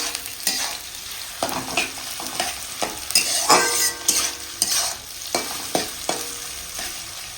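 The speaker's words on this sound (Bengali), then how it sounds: "পেঁয়াজটা ভাজা হোক ভালো করে।" Onions sizzle steadily in a hot pan as the base for a mutton curry cooked in a pressure cooker. A spatula scrapes and stirs at irregular intervals, making close, clattering knocks over the continuous frying hiss.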